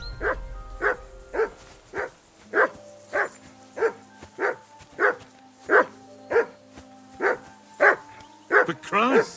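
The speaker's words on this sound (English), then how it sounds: "Call off that damn dog before he wolfs down the last of our mates." A dog in Kingdom Come Deliverance 2 barks in a steady series of about a dozen sharp, evenly spaced barks, close and loud, with a faint musical game backdrop and no talking.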